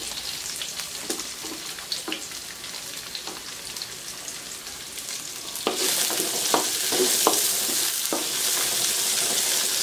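Onion and garlic sautéing for a scabeche sauce for grouper, bright crackling sizzle with sharp stirring scrapes, the frying growing louder and denser partway through, close up with no talk.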